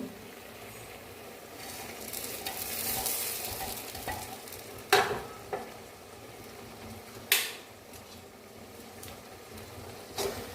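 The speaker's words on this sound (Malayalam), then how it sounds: "നമുക്ക് ഈ തേങ്ങ ഈ ഉണക്ക മീനിലേക്ക് ഇട്ട് കൊടുക്കാം" Grated coconut stir-fried with dried stingray in a hot pan, a steady sizzle with scraping spatula strokes and a few sharp metallic clinks against the pan, no talking.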